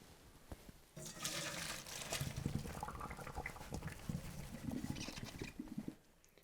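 Cooked ramen noodles being strained, a close rushing pour of water that starts abruptly, splashes and gurgles for several seconds, then cuts off.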